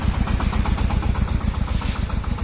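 A tractor engine pulls a Bomet disc harrow across a wet field, a steady, rhythmic chugging drone with regular pulses, loud and close.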